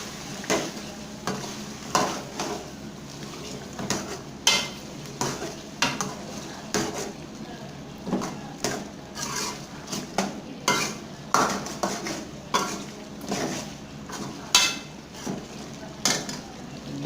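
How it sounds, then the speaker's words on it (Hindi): Beef karahi stirred in a metal pot after yogurt is added, a spoon scraping and clinking against the pan in steady repeated strokes, close and moderately loud, with no talking. "तो अभी इसके बाद हम इसमें ये दही डालेंगे। और इसको अच्छी तरीके से मिक्स करेंगे।"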